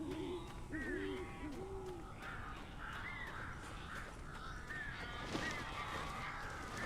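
Crows caw repeatedly in the Alan Wake video game, several harsh calls spaced across the scene over a dim, noisy ambient background, moderately close and with no talking.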